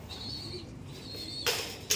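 Pet pigeons coo softly and close by, a few faint low calls with some high chirps, ending in a brief burst of rustling noise.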